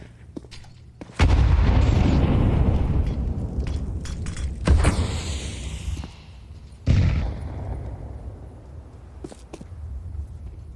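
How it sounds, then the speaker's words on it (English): Scout sniper rifle shots in a Counter-Strike match, a few loud sharp cracks with booming tails, spaced seconds apart between quieter gaps. "Scout shot sent out."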